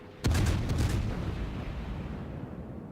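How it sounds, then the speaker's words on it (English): A Kutuzov cruiser in World of Warships fires a gun salvo: one sudden heavy boom hits hard, then rumbles and slowly fades over a couple of seconds. "I'm also just going for a salvo on the turrets real quick."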